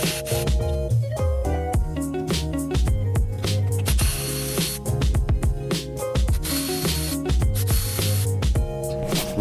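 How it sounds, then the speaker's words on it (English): A hand ratchet works loose the intake manifold chamber bolts on a 1987-1991 third-generation Honda Prelude, giving loud, close, continuous metallic clicking in fast repeated strokes with brief pauses between bursts. "Remove 5 intake manifold chamber bolts."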